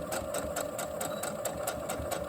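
Sewing machine back stitching elastic onto a bandana headband, running in a fast, regular mechanical patter of evenly spaced stitch clicks, close and steady throughout.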